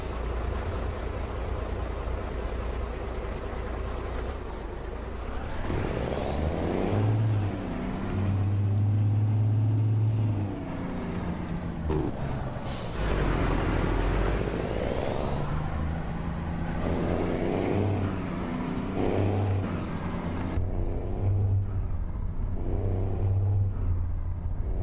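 A loud truck engine in a DAF XG truck in a modded trucking video game roars and revs repeatedly, with deep rumbling surges, gear changes and a sharp air-brake hiss partway through.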